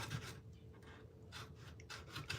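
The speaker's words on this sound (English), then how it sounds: "sanding back with the length of the blade with this 220." Hand sanding along the length of a knife blade with 220 grit sandpaper, a quiet close rasping in repeated back-and-forth strokes of roughly half a second each, with short pauses between passes.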